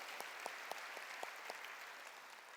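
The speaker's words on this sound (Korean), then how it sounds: "박수로 하나님께 드려" A church congregation clapping during a sermon, a soft, distant, reverberant wash of many hands with a few louder claps standing out at a regular pace.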